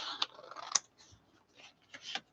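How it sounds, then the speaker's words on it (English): Scissors snip paper embellishments for a craft project, a few short crisp cuts with gaps between them, close and quiet, no voices. "I'm going to go on and cut this down a little bit."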